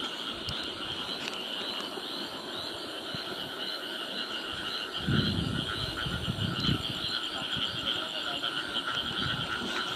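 Frogs croak continuously at night in Taiwan, a dense chorus of repeated calls from many animals both near and far, with no speech and a slight rise in low rumble partway through.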